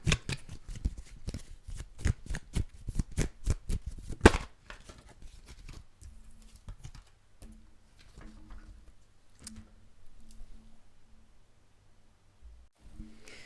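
Tarot cards being shuffled during a reading: a rapid run of dense, crisp riffling flutters for about four seconds ending in a sharp snap, followed by quieter scattered card handling and soft rustles.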